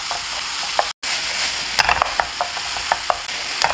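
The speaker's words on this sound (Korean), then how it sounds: "양파를 볶아서 투명하고 단맛이 나게 만들어줍니다" Onions stir-frying in a pan for jajangmyeon, a loud continuous sizzle with scattered scraping and clicking from the utensil moving them around, broken by one brief dropout.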